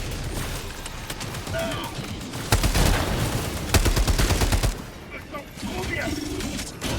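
Gunfire in the video game Army of Two: repeated loud bursts of shots and fusillades, heaviest in the middle, over a busy mix of game effects and bird-like sounds.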